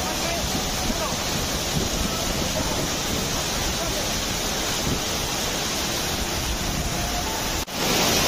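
A waterfall near Kanhe Khandi Road outside Pune rushes in a dense, steady roar that fills the scene at close range and breaks off abruptly near the end.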